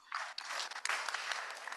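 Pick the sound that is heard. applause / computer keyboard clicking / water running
applause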